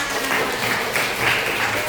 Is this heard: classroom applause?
yes